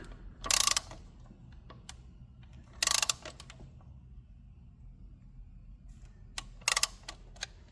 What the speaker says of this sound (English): So I'm using a torque wrench. Got it set to 25 foot-pounds.